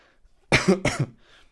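A person coughs twice in quick succession, close and fairly loud, with quiet room tone before and after.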